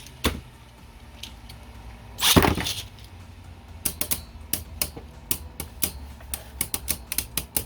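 Two Beyblade Burst Quadstrike tops, Tidal Pandora and Komet Helios, rip from their launchers in a loud whooshing burst, then spin and clash in a stadium with a scatter of sharp, close clicks and clacks.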